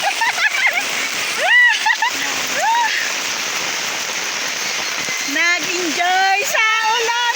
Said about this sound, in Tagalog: Ayan ang ulan. Lakas ng ulan.